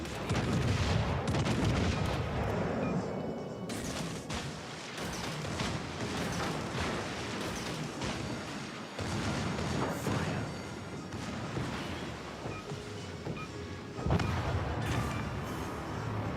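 Battleship artillery fire in the naval video game World of Warships: Legends: dense, continuous rumbling booms and blasts with sharp cracks on top, loud and sustained, with a heavy salvo surge near the end.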